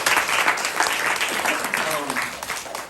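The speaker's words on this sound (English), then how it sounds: "So, big round of applause." An audience at an acting workshop gives a dense round of applause, with rapid overlapping claps that swell and then gradually taper off, and some crowd voices mixed in.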